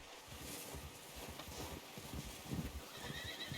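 A horse in the video game Red Dead Redemption 2 whinnies while its hooves clip-clop steadily, close and fairly quiet, with light wind in the background.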